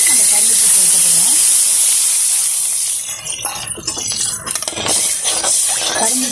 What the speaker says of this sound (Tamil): நம்ம முந்திரி ஃப்ரை பண்ண நெய்யிலேயே நம்ம கரும்பு ஜூஸ் சேர்த்துக்கிறோம்.